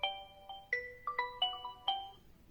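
A bright electronic ringtone melody from an Oppo A9 2020 smartphone, short chiming notes, about seven tones in a quick pattern, clear and alone against a quiet background.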